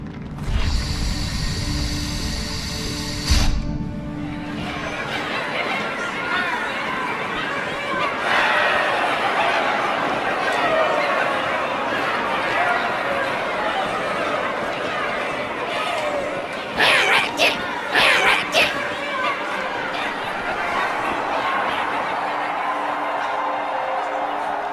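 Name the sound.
crowd chatter in a Halo video game cutscene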